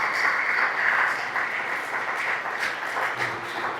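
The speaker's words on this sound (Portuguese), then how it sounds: "Aplauda o Senhor mais uma vez, aleluia!" A church congregation applauds during a Portuguese-language worship service, with a steady wash of clapping from many hands in a reverberant hall, sustained at an even level throughout.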